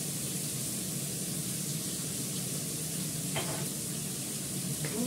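Potatoes frying in a pan, a steady close hiss of sizzling oil throughout, with a couple of faint utensil clinks near the end and no talk.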